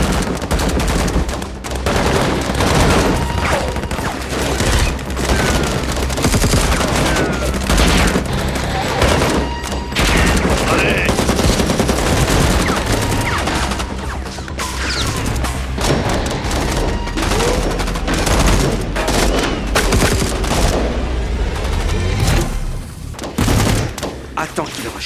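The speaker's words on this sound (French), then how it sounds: "je vais vous faire un petit best-of des coups de feu de ce film" Gunfire from the action film Armor comes in dense bursts of loud gunshots and rapid automatic fire with booms and thuds, mixed with voices throughout.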